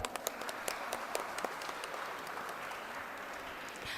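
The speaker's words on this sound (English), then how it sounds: "Can we please have a huge round of applause for all our guests?" Audience applause for guests at a live media and society conference, a steady dense patter of many hands clapping at moderate distance throughout, with a few sharper individual claps standing out.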